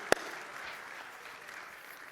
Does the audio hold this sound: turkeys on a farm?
no